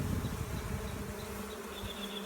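A honeybee swarm being caught at a bee ranch buzzes continuously, a thick droning hum from many bees close by with a few higher whines weaving through, no voices.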